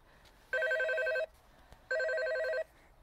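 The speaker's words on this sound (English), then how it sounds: "an old fashioned 1980s phone sound" Old-fashioned 1980s-style telephone ring from a toy car with lights and sounds, two electronic trilling bursts of bell-like ringing separated by a short pause, loud and close with nothing else heard.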